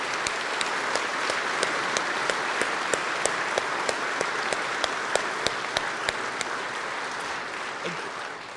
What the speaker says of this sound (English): Please clap for those guys